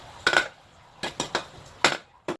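A spatula scrapes and clanks against a wok while fermented soybean paste is stir-roasted over medium heat, giving about five short, separate scrapes with quiet gaps between them.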